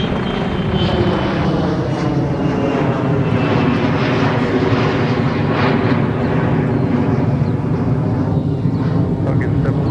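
A jet aircraft powers up for takeoff on runway 30 Left at Minneapolis–St. Paul airport, a loud, steady engine roar filling the whole stretch with no letup, while a radio voice talks over it.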